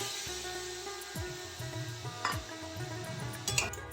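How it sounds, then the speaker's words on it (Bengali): Water poured into poppy seed paste frying in a pan while cooking thor posto, a banana-stem dish, giving a steady close sizzle with a few sharper hissing bursts and soft utensil sounds. "পোস্তটা নেড়ে নেওয়া হয়ে গেছে এবার জল দেবো"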